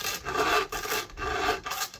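Hand file sharpening the teeth of a chainsaw chain, close and crisp, with four rhythmic rasping strokes, each a scraping burst separated by short pauses.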